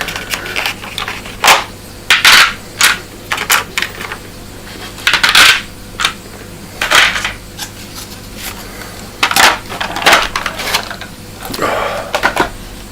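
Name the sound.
board game dice being taken out of a tray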